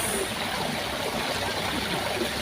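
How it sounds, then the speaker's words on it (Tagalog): Waterfall in the Baguio botanical garden, heard as a continuous, even rush of falling water at moderate loudness with no voices. "Ganda ng falls."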